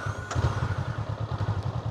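Motorcycle engine firing up on a road trip in Japan, a brief starter crank then a quick, even low idle pulsing close by, no talking.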